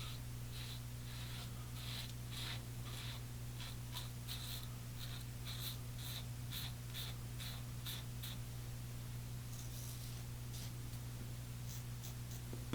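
Stubble being shaved with a Merkur Progress safety razor, a close, quiet series of short rasping strokes in quick bursts with brief pauses, set against a faint steady hum.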